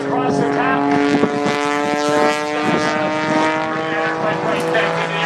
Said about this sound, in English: Airplane up to the sky.